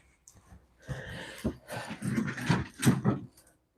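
A small dog whimpers and growls in short bursts, close by, with huffing breaths between them.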